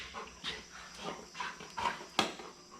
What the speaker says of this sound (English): Right next to the puppy dog.